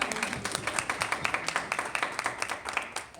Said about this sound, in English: Somebody should have clapped right there.